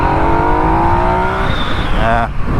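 A 2020 Yamaha MT-09 motorcycle engine revs hard on a ride. Its pitch climbs, drops at a gear change and climbs again, loud and close, over wind noise, with a rider talking briefly.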